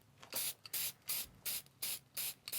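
Short bursts of black spray paint from an aerosol can, aimed into carved lettering grooves, sound as six or seven evenly spaced hisses, each about a quarter second long, close and clear with no talking.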